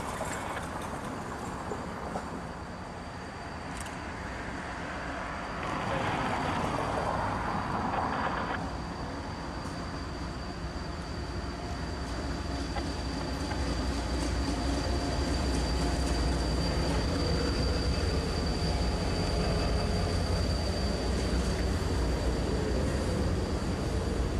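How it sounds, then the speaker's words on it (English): A Kansas City Southern EMD SD50 diesel locomotive leading an eastbound work train passes beneath a bridge, a steady rumble of engine and rolling wagons building and holding, with faint wheel squeal and a high tonal whine. "KCS 7003 is seen here ducking beneath the bridge while leading a work train to the east."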